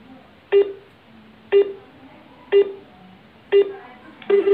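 A phone call to ICICI Bank customer care connects with five short, clear electronic beeps spaced about a second apart, the last one slightly stuttered, with no speech.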